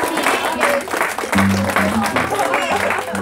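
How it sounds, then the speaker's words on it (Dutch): Short burst of clapping at a birthday party in Maarssen, given for the guest Movita, with low music and room chatter mixed beneath the applause. "En ook een applaus voor Movita,"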